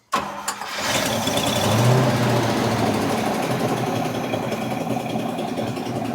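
A 1973 International Scout engine cranks briefly and catches, then settles into a steady, loud, continuous running rumble close by with no talk over it.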